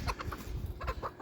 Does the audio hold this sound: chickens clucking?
yes